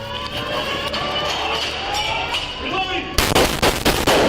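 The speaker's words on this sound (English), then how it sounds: "As soon as Officer Collazo and his team reached the floor, the suspect began shooting." Rapid gunfire from a suspect opening fire inside a school building as police officers reach an upper floor, a burst of loud, closely spaced shots crashing in suddenly after a stretch of tense background noise.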